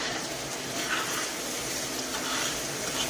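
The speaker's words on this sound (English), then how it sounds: "mix up all the brown sugar and butter" Banana slices sizzle and bubble in a pan of brown sugar and butter, a dense, steady frying hiss with faint stirring movement, close and continuous.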